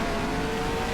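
A sprint car engine from the NR2003 racing game sound pack drones steadily and loudly throughout, a constant high-revving whine with no pause.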